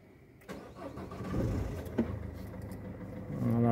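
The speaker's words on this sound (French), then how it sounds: "Voilà, j'ai démarré le moteur, comme vous voyez." A diesel car with a particulate filter cranks and starts up nearby, the engine catching after a short crank and settling into a steady, rising idle.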